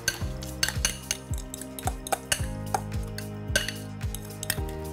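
Dough and mashed potato being mixed in a bowl, with a utensil clinking and scraping against the bowl in a steady, repeated rhythm, close up with no talking.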